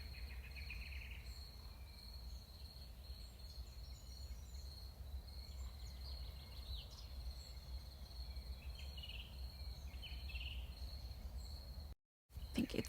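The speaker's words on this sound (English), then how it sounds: "crickets, crow in nature" Crickets chirp steadily in a nature ambience prepared for a video game, with a constant high insect trill over a low rumbling bed and occasional faint bird calls, all quiet and continuous until a brief dropout near the end.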